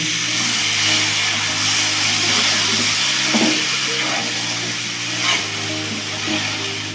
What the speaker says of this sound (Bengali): এবার দিয়ে দেবো যে চিনির রসটা আমি করে রেখেছিলাম, সেটা অল্প অল্প দেবো আর ভালো করে ভেজে নেব